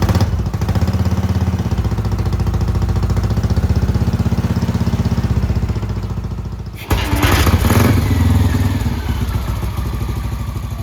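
Velocette motorcycle engine, blowing steam, running steadily with a loud, close, rhythmic thumping idle and mechanical clatter, then a brief dip and a rougher, louder stretch.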